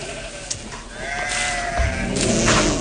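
Sheep bleat several times, close by, amid a rural farmyard scene in a stage play, with a quieter stretch before louder overlapping bleats toward the end.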